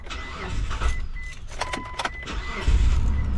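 Car engine being cranked after a shot of carburetor spray, catching briefly and then dying out, close and fairly loud with clattery mechanical bursts and a low rumble toward the end.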